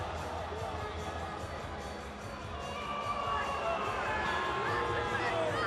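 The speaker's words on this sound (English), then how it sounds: "Well, a few boos and jeers." Rugby crowd at a Scarlets v Stormers match booing and jeering: a continuous, distant wash of crowd noise that grows slightly louder toward the end, with no clear talk.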